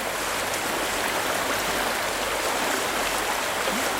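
Fast, steady rush of a trout stream running through heavy, deep water around a rock, a continuous broadband wash close by with no break and no talk over it.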